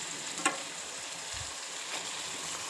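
Mutton pieces going into a pan of fried spice paste for a black pepper curry. A soft, steady sizzle carries a single sharp clack near the start and a brief low thump, fairly quiet and without speech.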